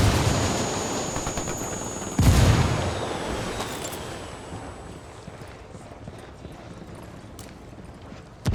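A frag grenade goes off in Ghost Recon Wildlands with one sharp, booming blast partway through. Its rumble fades slowly over steady background battle noise.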